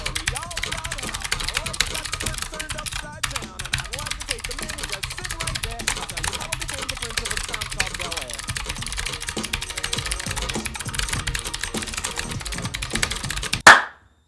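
Fast, continuous typing on a low-profile RGB mechanical keyboard during a typing test, recorded close up, with dense rapid keystroke clacks that end in a sharp final thump.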